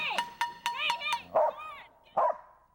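A dog barks several times in quick succession in bear country, sharp yips followed by a couple of lower, rougher barks, fairly close and alone with no talk.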